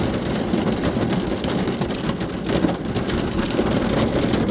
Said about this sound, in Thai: นี่แม่นฝนตกเด้อ